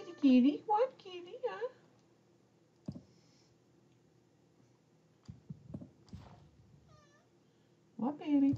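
A cat meows close by, several short cries near the start and again at the end, with quiet clicking and faint background sounds in between.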